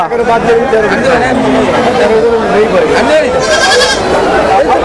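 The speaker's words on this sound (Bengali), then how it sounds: "পাঁচটা ছাগল দেখতে পাচ্ছি" Goats bleat repeatedly and loudly at a crowded livestock market held at Aricha for the Eid al-Adha sale, their cries overlapping under steady human chatter and crowd babble throughout.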